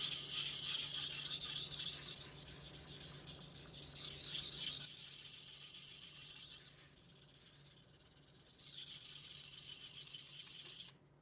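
Kitchen knife drawn across a fine-grit whetstone, a continuous rasping scrape that pulses with repeated strokes, fairly close and steady, easing briefly midway before resuming.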